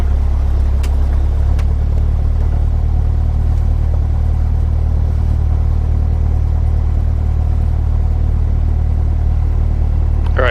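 A Cessna's engine roars at full power in a continuous, loud, even drone on its takeoff roll down runway 26 right, with a couple of faint clicks early on.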